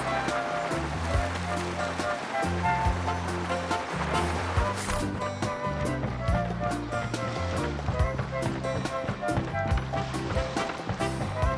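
Waves wash and splash continuously as a character surfs across water in the video game Genshin Impact, layered under a steady musical soundtrack with rhythmic game effects throughout.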